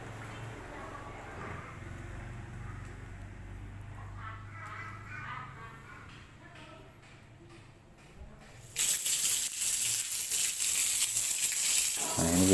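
An ablution tap in a women's wudhu area is opened, and water suddenly bursts into a loud, steady hissing rush partway through, after quieter room noise and faint handling sounds.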